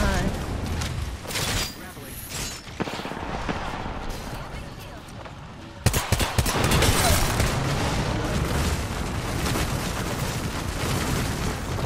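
Grenades and gunfire going off in an Apex Legends match, a dense run of booms and shots that turns louder and more continuous midway, with players talking over the combat.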